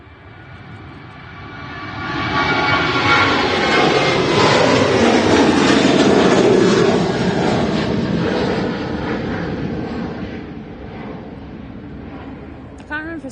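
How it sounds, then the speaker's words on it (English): A Ryanair Boeing 737 jet departing Manchester Airport swells into a loud broadband roar, peaks, then slowly fades as it climbs away, with voices talking over it. "First departing is Ryanair to Bologna, it's a 737"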